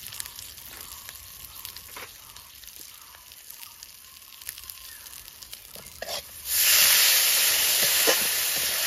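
Mustard, chili and taro leaves hit hot oil in a pan, a faint crackle suddenly swelling into a loud, steady, close sizzle that continues alone.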